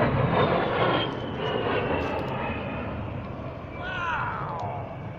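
An A-10 Warthog jet passes overhead near a camp, a broad roaring engine drone that holds steady and loud throughout, with a rising whine near the end and no talk over it.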